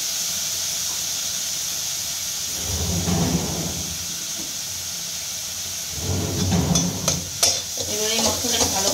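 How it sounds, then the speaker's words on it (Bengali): Turmeric and Kashmiri red chili powder frying with salt in a pan, a steady hiss broken by two bursts of louder scraping stirs, with faint squeaks near the end. "এবার এই মশলাটাকে ভালো করে ফ্রাই করবো।"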